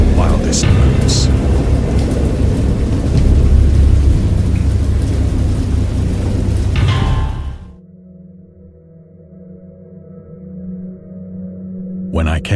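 Heavy thunderstorm with loud, close thunder rumbling over steady pouring rain for several seconds, then cutting to a quieter low drone before the storm noise briefly returns.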